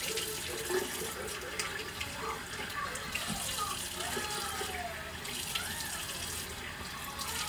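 Tap water runs steadily into a sink while face wash is rinsed off, a continuous close splashing wash with faint shifting tones from the basin.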